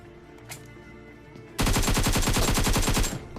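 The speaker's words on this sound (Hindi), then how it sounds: "ये कार 98 की आवाज़, ये कार 98 आवाज़ बहुत ज़्यादा क्लोज से आ रही थी" Kar98 bolt-action rifle fire in PUBG Mobile on the Erangel map: after a quiet stretch of faint ambience, a loud, dense burst of rapid repeated gunshots sounds close by for about a second and a half, then cuts off.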